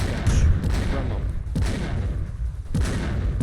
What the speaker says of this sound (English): that's a heavy cannon